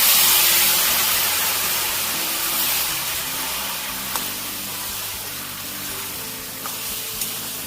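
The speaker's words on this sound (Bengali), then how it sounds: "সামান্য একটু জল দিয়ে দিচ্ছি।" A burst of steam hisses loudly as a little water hits a hot pan of dry chilli chicken, the sizzle loudest at first and slowly fading to a softer steady hiss with faint clinks.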